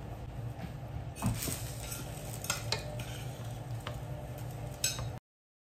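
Steamed rice being stirred and mixed in a pot with a utensil, soft scraping and stirring sounds with a few sharper knocks against the pot, quiet and close, with a faint steady hiss underneath.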